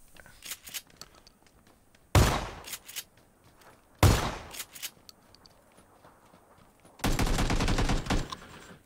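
Gunfire in PUBG: sharp single shots and two loud bursts split by quiet gaps, then a sustained rapid burst of automatic fire near the end.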